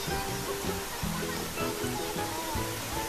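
Henrhyd Falls, a waterfall in Wales, gives a steady broadband rush of falling water that fills the whole clip at an even level, with some low rumbling mixed in.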